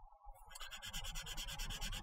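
Filler on a 1/48 Airfix Fairey Gannet plastic model kit being sanded, a steady close rasping rub in quick regular back-and-forth strokes after a brief quiet start, with no talking.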